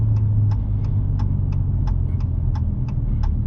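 A car engine runs steadily at low revs while reversing in valet mode, with a regular series of faint clicks or beeps ticking over the rumble.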